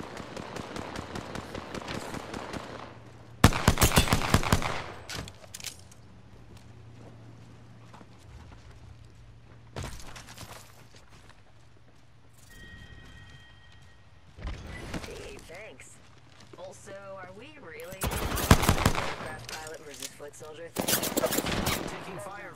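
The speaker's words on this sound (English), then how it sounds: "I'm taking fire, friends." Gunfire in the shooter game Apex Legends, heard in several loud, dense bursts of rapid automatic fire separated by quieter stretches of game sound.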